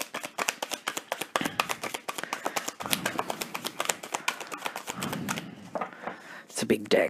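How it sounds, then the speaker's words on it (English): Half of a large tarot deck being shuffled, giving a dense run of quick papery card flicks and taps that stay close and steady throughout, with brief pauses near the end. "It's a big deck, so I can only shuffle half at a time."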